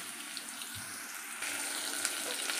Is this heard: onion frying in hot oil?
yes